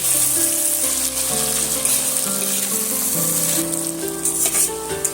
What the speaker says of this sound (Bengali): আবারও আমি নেড়ে ফেড়ে টমেটো আর পেঁয়াজটা আরও সুন্দর করে ভাজা করে নেব